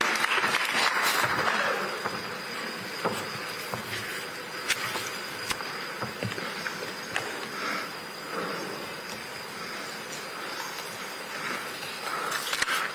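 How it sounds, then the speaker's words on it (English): Audience applause welcoming a speaker to the stage at the Africa Fertilizer and Soil Health Summit, a steady wash of many hands clapping for the whole stretch, moderately loud with no talking over it. "We can encourage him with a clap as he comes up."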